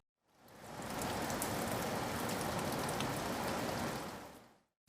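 Steady, dense rainfall added as ambience over a city scene, a continuous loud hiss of drops that fades in, holds evenly and fades out, with no voices.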